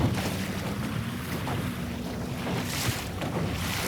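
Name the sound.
wind on a lake while sailing a Sunfish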